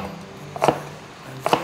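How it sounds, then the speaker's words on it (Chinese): Two crisp knife chops strike through fresh cilantro onto a cutting board, close and distinct, spaced about a second apart against a quiet background. "把香菜切碎"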